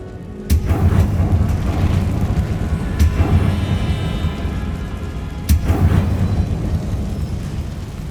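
A Confringo fire-blast spell explodes in Hogwarts Legacy, sharp booming blasts recurring about three times over a loud, rumbling combat backdrop.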